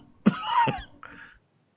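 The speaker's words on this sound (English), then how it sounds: "He was coughing." A single harsh cough followed by a shorter second cough, close and clear in an otherwise quiet room.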